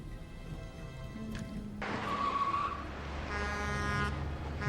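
Tires of a truck skid and squeal in a TV drama scene, a sustained screech rising over a steady background rumble, followed by a louder rushing road noise.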